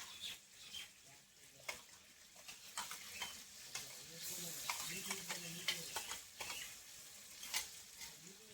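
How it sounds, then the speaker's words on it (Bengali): A paste of poppy seed, cashew and tender coconut cream is sautéed in a pan, producing a soft, continuous sizzle with repeated spoon scrapes and taps, fairly faint. "এটা দিয়ে আমি 2 মিনিট মতো এরকম কষিয়ে নেব।"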